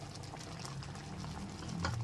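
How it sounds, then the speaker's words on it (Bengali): Mutton sautéing over a medium gas flame in a pan with a paste of ground spices, turmeric and Kashmiri chilli powder, giving a steady, close bubbling and sizzling with no voices. "গুঁড়ো মশলাটা দেওয়ার পর খুব ভালো মতো 4 থেকে 5 মিনিট গ্যাসের ফ্লেমটা মিডিয়ামে রেখে কষিয়ে নিচ্ছি"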